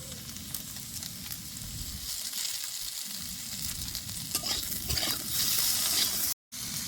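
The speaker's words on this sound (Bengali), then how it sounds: "কচু আর আলু ভালো করে একটু কষানো হয়ে গেছে" Taro and potatoes sauté in a pan, giving a dense, steady sizzle close by, with brief stirring noises and a short drop to silence near the end.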